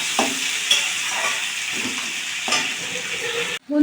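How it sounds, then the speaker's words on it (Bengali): Onions fry and sizzle in hot oil in a pan for a turkey chicken curry, with repeated stirring scrapes at a steady pace and no talk over them. "পেঁয়াজটাকে আমি ভাজতে থাকবো যতক্ষণ না সোনালি কালারের হয়"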